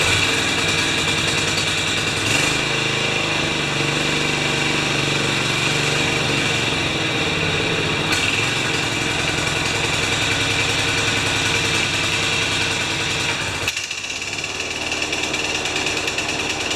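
Older John Deere 14SE riding mower engine running steadily after being choked, a loud continuous mechanical drone with a brief dip near the end, close and alone with no talk.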